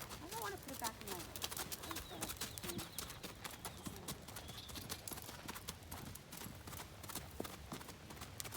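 Hooves clip-clop in a steady, even rhythm as a horse named Cocoa Bean works through her first gaiting lesson, with people talking over the continuous footfalls.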